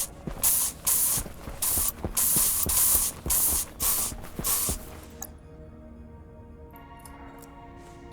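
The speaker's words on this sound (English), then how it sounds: "I spray painted everything black now." Spray paint can in the game Stationeers, a series of loud, close hissing bursts of about half a second each, sprayed in quick succession and then stopping, with quiet ambience after.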